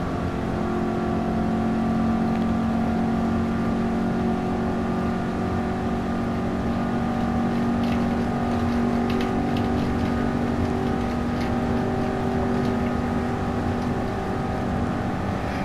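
A Mustang's engine in a racing video game roars continuously at high revs with steady tonal harmonics, loud and sustained for the whole stretch with no talking over it.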